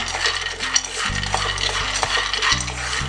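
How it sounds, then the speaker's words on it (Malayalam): Peanuts for kappalandi mittayi roast in a pan while a metal utensil stirs them, producing rattling, scraping strokes in an uneven rhythm over a low hum, close and fairly loud. "ഇനി നമുക്കത് ചെറുങ്ങനെ വറുത്തെടുക്കാം."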